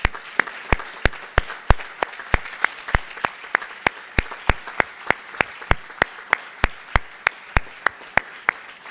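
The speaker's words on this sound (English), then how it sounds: "give yourselves one more huge round of applause" Clapping at a dental medicine white coat ceremony, heard as a steady, evenly spaced run of sharp single claps, close and crisp, continuing for the whole stretch with no talk over it.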